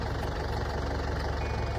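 A tractor engine idles steadily in the open, a continuous close, low rumble with no breaks and no voices.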